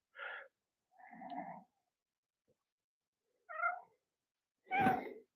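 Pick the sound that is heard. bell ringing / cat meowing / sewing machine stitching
cat meowing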